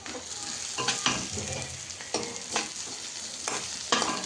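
Onion fries in oil in a pan, with a steady close sizzle and periodic louder bursts of scraping as it is stirred, no voices.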